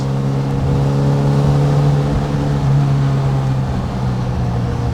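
A classic car engine revs in third gear while cruising at about 40 mph, a loud, steady droning hum with a sustained low tone heard from inside the car and no talk.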